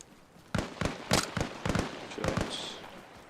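Gunshots in the military video game Arma Reforger: about eight sharp cracks in an irregular sequence, some in quick pairs, moderately distant and fairly loud against a quiet background.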